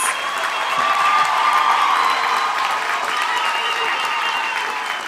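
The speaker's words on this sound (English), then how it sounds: "Let's give her a thunderous round of applause." Graduation crowd in Windhoek giving a thunderous round of applause, dense clapping mixed with cheering and whoops, loud and sustained the whole way through.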